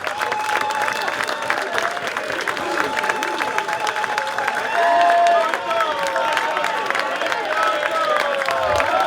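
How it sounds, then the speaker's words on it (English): Applause and cheering from a crowd at a football testimonial presentation, steady clapping throughout with whoops and shouts rising over it, a louder swell midway, and voices audible among the crowd. "One more round of applause for Craig, please."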